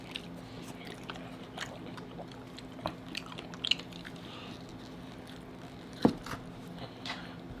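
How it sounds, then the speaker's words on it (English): Close chewing of spicy tacos during an eating challenge, soft irregular crunches and wet bites at an unhurried pace over a quiet room, with a couple of louder bites; no talking. "I'm tired of chewing."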